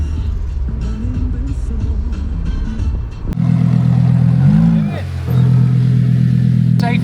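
A Lamborghini Huracan Evo Spyder's engine drones and swells as the car is driven, a steady close growl with a brief rise in revs, under a man's speech.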